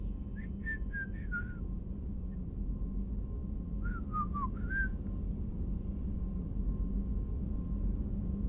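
A person whistles a short melodic phrase of rising and falling notes, pauses, then whistles a second similar phrase, heard clearly over a steady low hum and rumble.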